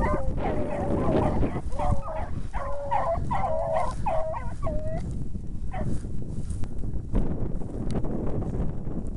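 A pack of beagle hunting dogs on a rabbit chase bays and barks in a rapid run of excited yelps, clustered in bursts over the first few seconds, then fading into scattered distant barks amid outdoor ambience.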